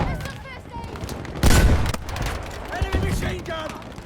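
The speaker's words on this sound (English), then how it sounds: "Enemy machine gun!" Enemy machine gun fire in the Battlefield V video game, a loud close burst of rapid shots followed by scattered distant gunfire and game sound effects, with a voice calling out over the action.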